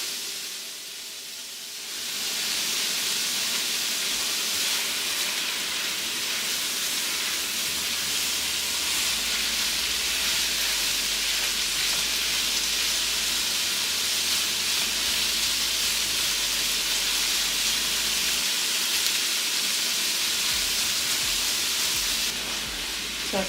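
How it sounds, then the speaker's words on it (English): Carrots for chicken chow mein cook in a pan on a stove set to 6, giving a steady, loud, continuous sizzle and hiss that starts after a brief quiet moment and holds evenly throughout. "So I'm letting my carrots cook for a little bit"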